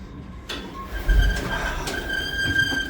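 A train in Belgium heard from inside a carriage, with a low rolling rumble, brief clanks and a faint sustained whine of wheels or motor at moderate distance.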